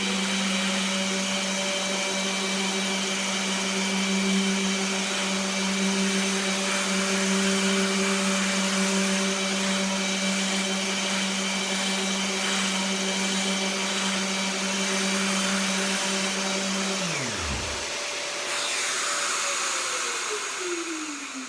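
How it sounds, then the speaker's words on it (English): A Festool ETS 125 sander works a rough piece of oak, giving a loud, steady motor whine with a constant dust-extraction hiss. Near the end the motor spins down and the suction keeps whooshing for a few seconds. "sanding it down."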